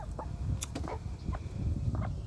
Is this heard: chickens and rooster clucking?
yes